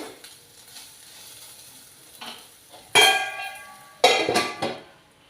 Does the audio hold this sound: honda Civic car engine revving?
no